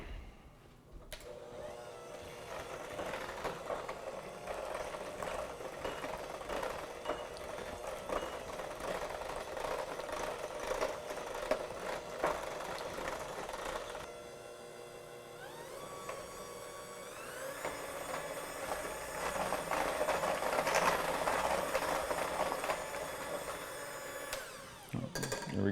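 An electric mixer whirs steadily while eggs are beaten into molasses for gingerbread dough, a continuous mechanical drone that dips briefly midway before picking up again.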